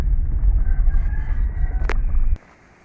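Rooster crowing outdoors in Ugly River, St. Mary, loud and close, a single drawn-out cock-a-doodle-doo over rumbling wind and engine-like background noise that cuts off abruptly near the end.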